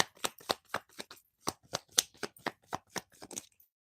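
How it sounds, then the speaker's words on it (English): Tarot cards being shuffled by hand, about a dozen crisp riffling bursts in an even, quick rhythm, close and fairly quiet, then stopping. "I'm gonna pull one more card."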